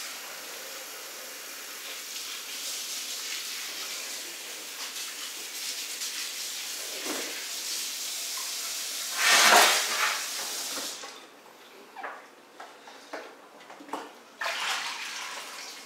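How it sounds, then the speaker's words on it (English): Tap water running steadily as a brined whole turkey is rinsed in a sink, a continuous hiss with a louder splashing surge, then intermittent splashes as the flow is broken up. "I want to rinse it off so that all this extra salt and stuff."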